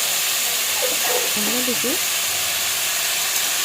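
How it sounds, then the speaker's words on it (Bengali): Potatoes frying lightly in a pan while being stirred give a steady hiss and sizzle, with a person briefly speaking over it. "আলুগুলো খুব ভালোভাবে নাড়াচাড়া করে নিতে হবে, আলুগুলো হালকা ভাজা ভাজা করে নিতে হবে।"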